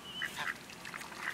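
A duck being fed gives a few short nasal quacks in quick succession, close by and moderately loud, with no talking.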